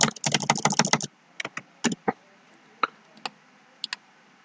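Typing on a computer keyboard while setting up a design in software: a quick burst of rapid close key clicks, then scattered single clicks and short pairs.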